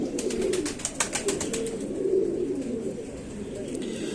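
Pigeon cooing from a prized loft king pigeon held in hand, soft low repeated coos running through the whole stretch amid some background rustle and faint clicks.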